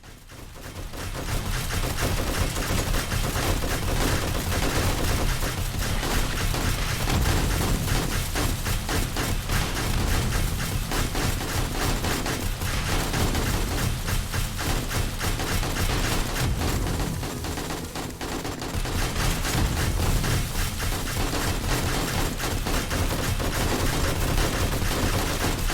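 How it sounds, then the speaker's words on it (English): Relentless gunfire in the zombie survival game 7 Days to Die, during an airport looting run on Insane mode with a huge zombie spawn. Dense, rapid shots run loud and unbroken for the whole stretch, with no voices. "Gun's been non-stop shooting the whole time."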